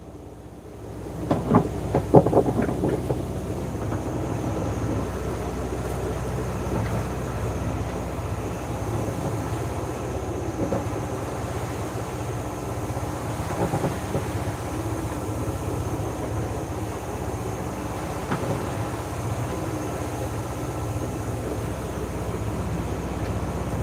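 A sailboat motors across open ocean under engine power in windless conditions between Vanuatu and the Solomon Islands, giving a steady, unbroken low droning rumble with a brief louder clatter near the start.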